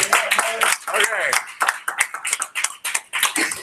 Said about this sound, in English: let's give Mr. Bart Ratliff a round of applause